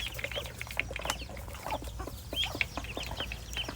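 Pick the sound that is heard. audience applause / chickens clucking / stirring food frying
chickens clucking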